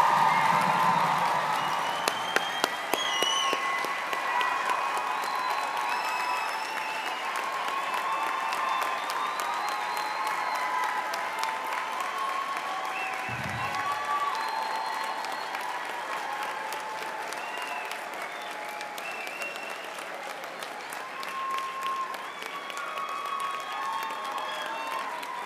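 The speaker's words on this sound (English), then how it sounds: "A big round of applause for all of our graduates." A large audience at a university spring convocation applauds nursing graduates, sustaining dense, even clapping for the full stretch with a little cheering at the start.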